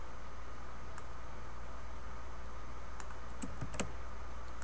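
Keys tap on a computer keyboard in a few quick, soft clicks, a short isolated stroke followed by a brief cluster of typing near the end, faint over a steady background hiss.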